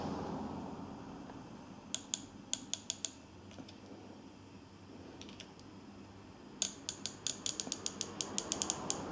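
A rifle scope's elevation adjustment turret is turned by hand, giving bursts of small, crisp clicks close to the microphone: one cluster early, a few isolated clicks mid-way, then a rapid run of clicks near the end.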